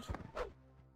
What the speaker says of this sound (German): Hier, ich höre noch einen Skorpion.